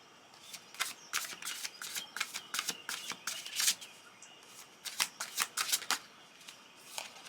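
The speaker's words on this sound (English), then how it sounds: "And I'm going to keep pulling cards." Tarot cards being shuffled and pulled, a run of crisp papery riffles and snaps in irregular bursts, close and fairly quiet, with no voices.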